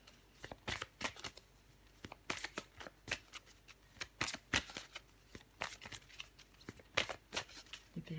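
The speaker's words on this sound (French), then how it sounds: "Je vais encore tirer une carte pour vous, les vierges." Tarot cards shuffled by hand to draw a card, a close series of quick riffling bursts and soft slaps at an irregular rhythm, fairly quiet with no talking.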